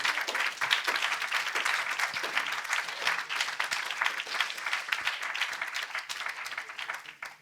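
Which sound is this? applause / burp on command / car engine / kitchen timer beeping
applause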